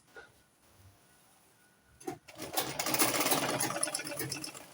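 Sewing machine stitching the gathered smocked waist of an A-line dress: quiet at first, then after a couple of soft knocks the motor starts a fast, steady, close whirring run that continues to the end.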